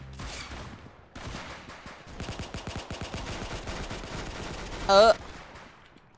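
Gunshots in the Roblox shooter Arsenal: rapid, evenly spaced automatic fire in quick bursts, fairly close and crisp, with a brief voice exclamation partway through.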